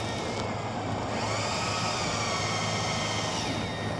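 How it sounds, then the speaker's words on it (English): A cordless drill bores out a broken EGR bolt on a Ford 6.7 diesel, a steady, loud, continuous whine with a droning motor hum running unbroken from start to finish, with no talking over it. "feel the bottom of the bolt hole, or the bolt that I'm drilling"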